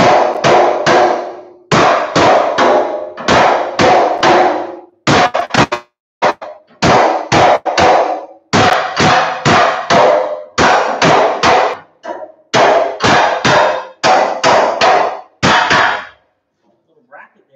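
Metal bracket on a rat rod frame struck by a hammer in rapid bursts of loud, close blows, grouped in quick runs of several hits separated by brief pauses.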